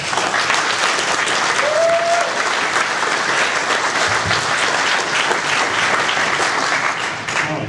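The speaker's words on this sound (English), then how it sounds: "I want to give you guys a chance to give him a round of applause" Audience at the CactusCon 2014 conference keynote applauding steadily and loudly for the whole stretch, a dense wash of clapping with a brief whistle early on, fading slightly at the end.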